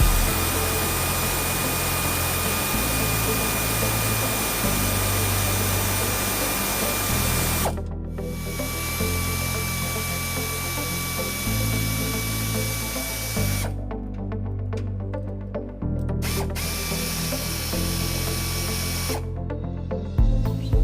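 A power tool, likely an impact gun or drill, loosens a bolt on a 2006 Toyota Tacoma during a trailer hitch install, with long continuous whirring and short pauses between runs that shift pitch as it works.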